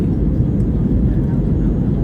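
Cabin noise aboard a passenger flight from Leh to Delhi, a loud steady low-frequency engine drone with no breaks.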